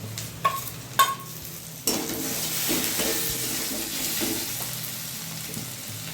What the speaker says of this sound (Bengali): অল্প জল দিয়ে কষিয়ে নেব